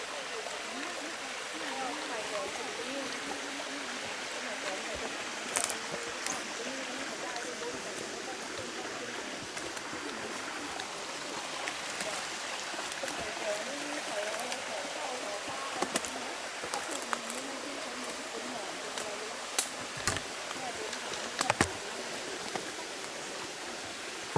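Stream water flowing near Na Tat waterfall: a steady broadband rushing wash, moderately near and continuous, with occasional sharper splashes and faint voices under it.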